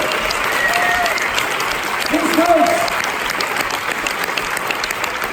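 Audience applause at a summer camp seminar, a steady wash of clapping from a crowd that holds evenly throughout, with a voice speaking briefly over it.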